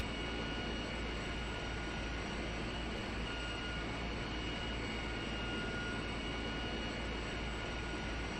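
Steady broadband rotor and turbine drone of a Sikorsky Sea Stallion helicopter in a flight simulator, continuous and unvarying, heard from inside the cockpit without speech.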